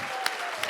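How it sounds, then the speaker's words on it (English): A conference audience claps steadily in a packed room, a dense continuous patter of many hands, with a faint voice underneath. "you are going to have to clap yourselves here"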